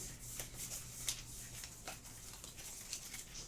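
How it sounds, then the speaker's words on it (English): A deck of cards is shuffled for a tabletop game, soft riffling and rubbing with a few sharper flicks, close and quiet with no talking. "shuffle the deck here."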